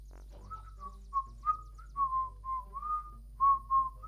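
A person whistling a wandering melody in short phrases, clear and close, with brief pauses between notes over a faint low hum.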